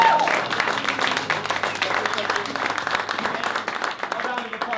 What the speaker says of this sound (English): Can we get a massive round of applause for Nick Roten on the keys?